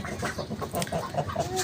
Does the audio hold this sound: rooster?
yes